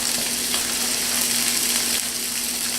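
Venison sizzles steadily in a hot pan, a constant close crackling fry with faint spatters and a low hum underneath, and nobody talking.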